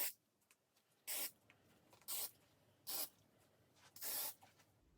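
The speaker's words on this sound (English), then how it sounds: "I'm spraying it lightly, just where I can get the protection that I need" Four short bursts of Apple Brand Garde protector spray onto Louis Vuitton sneakers, each about a third of a second, separated by quiet pauses with faint handling noises.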